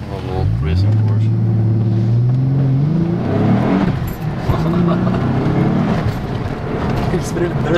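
Engine-swapped twin-turbo Nissan 300ZX accelerating hard, a loud rising engine pitch climbing through gears, close and dominant, with a voice talking faintly underneath.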